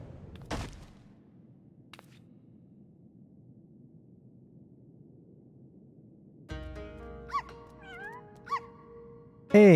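A cat character meows in the video game Final Fantasy XIV, a few short pitched mewing calls against a quiet game background, followed by a sudden loud burst at the end.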